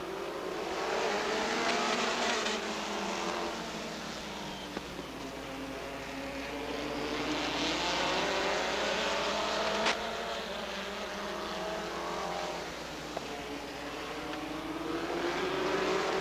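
Race cars, mostly Volkswagens with a Ford and a Chevy in the pack, roar steadily around Rockford Speedway at a 1999 short-track event, a loud continuous engine drone rising and falling as the field passes.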